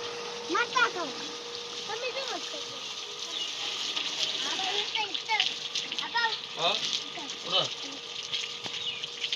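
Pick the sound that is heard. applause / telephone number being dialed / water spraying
water spraying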